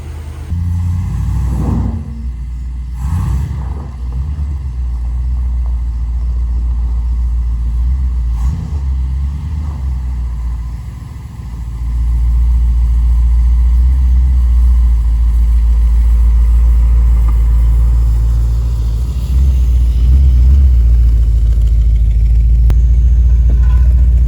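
A 1978 Dodge Aspen Super Coupe, revived after 30 years of sitting, rumbles at idle with a few revs early on, then its engine swells and holds a loud, steady low drone as it drives out.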